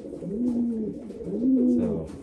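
Jansen racing pigeons, including a Blue Bar White Flight bird, coo while being paired for breeding: two drawn-out, throaty coos sound close by, each swelling and fading over a soft background murmur.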